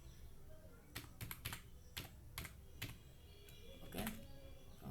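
Computer keyboard keys tapped in short irregular bursts while a C programming example on pre-increment operators is typed, fairly quiet with a faint background hum and no talk.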